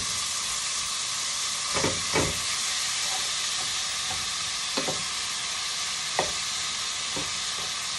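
Stuffing is stirred in a hot pan on the stove, making a steady sizzling hiss with occasional scraping thumps of a utensil against the pan.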